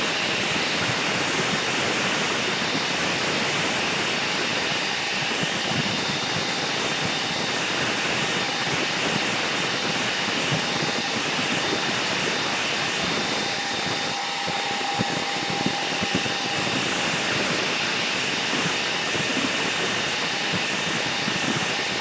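A hair dryer blowing over wet watercolour paint, a steady loud broadband whoosh held without pause and close to the microphone.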